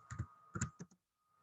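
A few quick keystrokes on a computer keyboard as a short material note is typed into CAD software, two small clusters of close, crisp clicks followed by silence.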